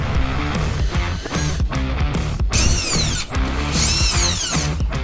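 A power drill with a T15 Torx bit backs screws out of a truck mud flap on a GMC Sierra 2500/3500, giving several close, loud whirring bursts with rising and falling pitch and ratcheting clicks between them.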